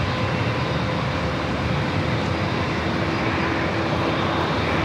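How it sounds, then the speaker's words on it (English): A Boeing 787-8 Dreamliner airliner departing San Diego for Tokyo Narita gives a steady, loud broadband jet roar with faint tonal whine, sustained and even throughout, with no voices. "It's a 787-8 Dreamliner heading back to Tokyo Narita"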